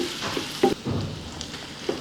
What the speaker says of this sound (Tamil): கொஞ்சம் பொன் கலராக வெங்காயம் ஒரு 3 நிமிஷம் நல்லா வதங்க விடணும்